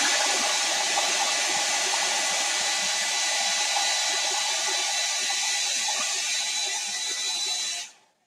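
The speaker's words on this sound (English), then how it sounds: "I almost think this hair dryer is hotter than my heat gun." A hair dryer blows steadily with a loud, constant whooshing roar for several seconds, then clicks off abruptly at the end.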